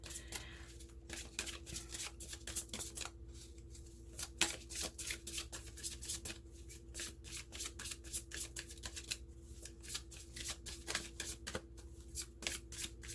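Tarot cards are shuffled in quick, crisp riffling bursts, close and quiet, with short pauses between rounds of handling as cards are pulled from the top and bottom of the deck.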